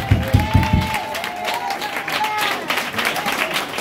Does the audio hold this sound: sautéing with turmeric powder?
no